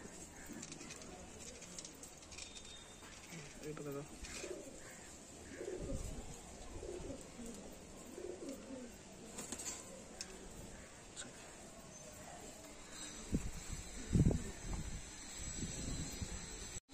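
Madrasi high flyer pigeons in a loft near Kalyani Road, Muragacha, give soft low coos, faint and intermittent, with background talk and some scattered ticks.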